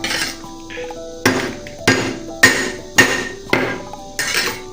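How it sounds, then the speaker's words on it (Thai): Heavy rhythmic pounding of lemongrass stalks being crushed, about six solid thuds spaced under a second apart, with a faint background hum between strikes. "เอาตะไคร้มาทุบให้พอแตกครับ"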